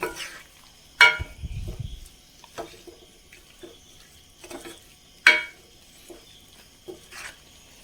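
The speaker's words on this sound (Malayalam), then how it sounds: "ചേർത്ത് നന്നായി ഇളക്കി കൊടുക്കാം" A spoon stirs ground masala paste with a little water in a cooking pot, producing intermittent scrapes and sharp clinks against the metal, with quiet gaps between the strokes.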